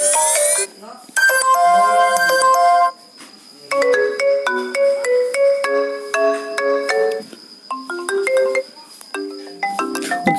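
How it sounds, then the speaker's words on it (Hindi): An iPhone ringtone played back through an app on an Android phone, bright synthetic melodic tones in repeated phrases with short gaps between them, loud and clear. "यहाँ पे क्लिक करो तो रिंगटोन प्ले हो जाएंगे यहाँ से"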